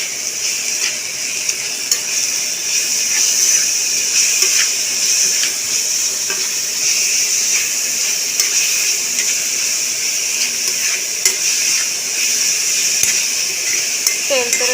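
Grated onion sizzles steadily in hot oil for a homemade hair oil, a bright continuous frying hiss with occasional clinks of a stirring spoon against the pan.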